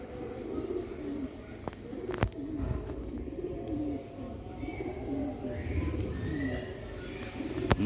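Sialkoti black-faced pigeons make low, continuous cooing close by, a dense rolling murmur from several birds with a few sharp clicks and flutters mixed in.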